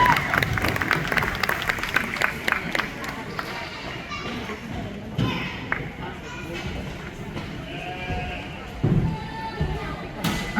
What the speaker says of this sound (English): Let's give these kids a big round of applause and good class.